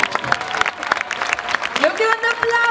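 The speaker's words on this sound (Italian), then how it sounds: "Un grande applauso!" Crowd applause at a grape festival in Cupramontana, scattered clapping under an amplified announcer's voice, with a tonal sound swelling in near the end.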